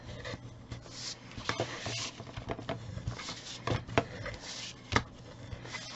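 Glued paper being rubbed firmly flat onto a card folio box, a close, steady scratchy rasping with a few sharper taps, no talking.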